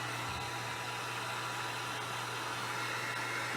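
A heat tool blows hot air onto a Fire & Ice tumbler, a steady, loud, close hiss with a constant low hum underneath, uninterrupted for the whole stretch.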